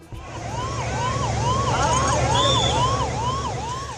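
Ambulance sirens wailing at the scene of a passenger plane crash into a residential neighborhood in northwestern India, a loud rising and falling siren cycling steadily with a second siren overlapping and traffic rumble beneath.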